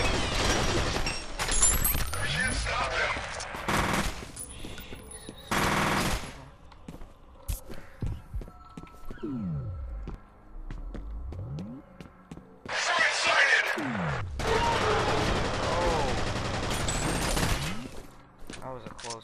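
Gunfire in the video game F.E.A.R., including shotgun blasts: loud, dense volleys of rapid shots come in several bursts separated by quieter stretches of mechanical game sounds.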